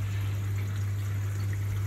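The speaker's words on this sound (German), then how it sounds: "Das Wasser selber fließt runter in den Schacht." Water trickles and pours down into the overflow shaft of a saltwater aquarium, a steady close liquid flow with a constant low hum beneath it and no talking.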